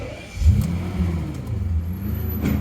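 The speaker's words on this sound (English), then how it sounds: "There's a ticking noise from the engine," A BMW E38 750i V12 engine with a known ticking fault runs close by, a low steady hum with a brief swell near the start and faint light clicks over the drone.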